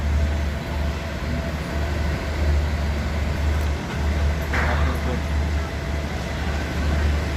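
Train at Hua Lamphong railway station in Bangkok, a steady low rumble of rail cars and engine idling under a busy crowd, continuous and fairly loud with someone talking over it.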